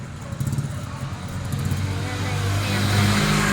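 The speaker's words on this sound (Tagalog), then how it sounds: "Ang daming sasakyan." Traffic passing on a national road with many vehicles, a loud broadband engine roar and revving that swells toward the end as a vehicle draws close, with no voices heard over it.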